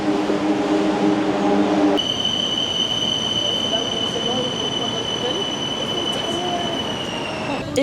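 Bangkok metro train in motion: steady rumbling rail and wheel noise with a sudden high, sustained tonal whine as the car runs, continuous and fairly loud throughout the ride.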